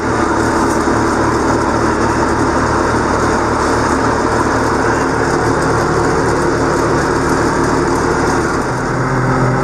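A Tigercat LX830D feller buncher engine idles at 850 RPM, a steady loud droning rumble that holds unchanged throughout with no voices.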